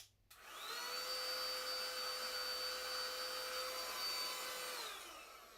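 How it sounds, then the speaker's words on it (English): A vacuum cleaner switches on and runs with a steady, loud whirring whine held for several seconds, then winds down, with no other sounds around it. "I got a vacuum cleaner."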